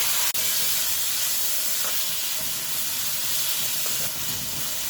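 Tomatoes frying in a pan for a sweet-sour pumpkin curry, giving a steady loud hiss and sizzle throughout with no talking.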